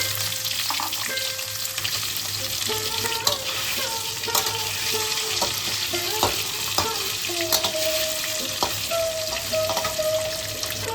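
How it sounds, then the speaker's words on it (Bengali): Eggs fry in mustard oil in a wok, a loud continuous sizzle with sharp crackles and spitting pops scattered throughout. "ডিমটা আমার খুব ভালো করে ভাজা হয়ে গেছে।"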